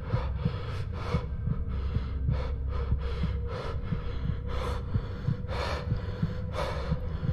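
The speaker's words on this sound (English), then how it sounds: "I can hear the panting, guys." Heavy, rhythmic panting from a creature in a Roblox horror game, a steady run of harsh breaths over a low rumbling ambience, close and continuous with no talk.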